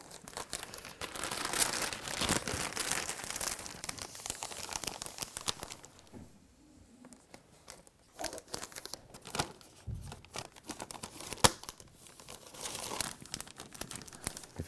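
Window insulation plastic film crinkles and tears as it is peeled away from double-sided tape on a drafty window, close and crisp in repeated bursts with a brief quieter pause midway.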